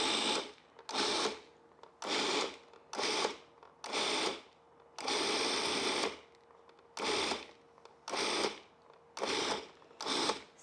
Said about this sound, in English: So then you put on the cover and then you're just gonna pulse it again.